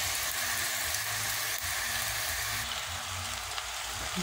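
Spaghetti frying in a pan crackles and sizzles in a dense, even rush like heavy rain, loud and close, continuous for the whole stretch with no voices.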